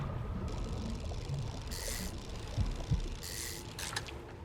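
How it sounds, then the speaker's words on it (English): Heartbeat sound effect from the fishing horror game Dredge: The Pale Reach, a low muffled double thump heard twice under a faint ambient bed, with brighter hissing swells around it. "that heartbeat needs to stop"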